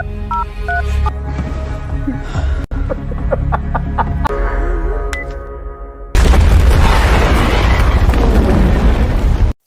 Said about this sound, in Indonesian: ponsel yang siap digunakan untuk memicu ledakan besar